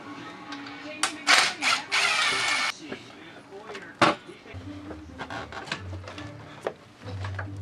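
A power tool whirs in short bursts while loosening plenum bolts on a Nissan 300ZX Z32 engine, followed by metallic clicks and light handling sounds up close, with talk over part of it.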